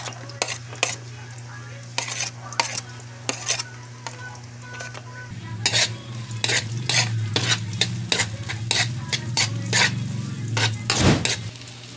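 Garlic and onion sauté in a pan for balbacua, a sizzle under a steady low hum, with frequent sharp metal utensil clinks and scrapes against the pan, louder in the second half.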